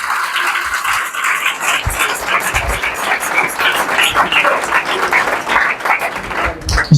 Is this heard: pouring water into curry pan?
no